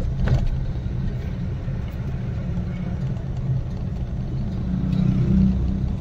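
A car on the move during a driving lesson, its engine giving a steady low rumble throughout that swells slightly near the end.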